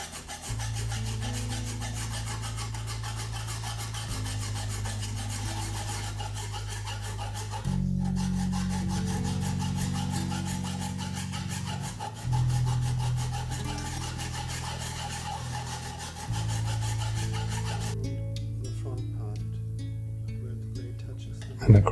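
A file scraping back and forth across a tipped hand plane blade, steady rasping strokes in long rhythmic passes, close and fairly loud, with a sharp clack at the end.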